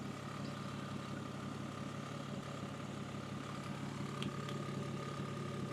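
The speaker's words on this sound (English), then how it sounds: "Exhaust is blowing badly" A Toyota Mark II JZX110 with a 1JZ-GTE turbo engine idles continuously with a constant low rumble and a faint hissing, puffing note from a leaking exhaust layered over it.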